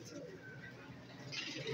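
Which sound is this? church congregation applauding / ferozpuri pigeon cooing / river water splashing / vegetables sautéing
ferozpuri pigeon cooing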